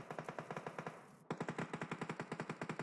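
Rapid automatic gunfire in a battle royale video game, two sustained bursts of evenly spaced sharp shots, loud and close, with a brief gap between them and no talking.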